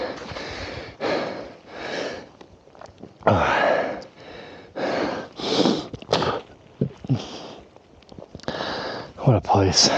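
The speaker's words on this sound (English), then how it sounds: "a little bit of heavy breathing." Heavy breathing from someone hiking outdoors on a hunting scouting trip with a heavy pack on their back: loud, close, ragged breaths and puffs come in repeated bursts separated by short quiet gaps.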